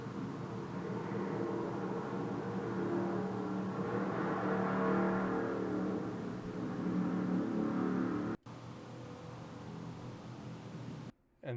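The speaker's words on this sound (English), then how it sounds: "Kind of figured that was going to be a car." A car drives past, a steady broadband whoosh of engine and tyres that swells mid-pass and holds for about eight seconds before cutting off abruptly.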